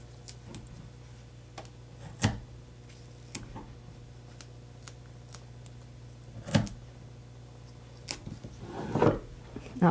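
Scissors snip foam tape into small pieces for holiday card making, a few separate crisp cuts spread out at close range over a quiet background, with a faint voice now and then.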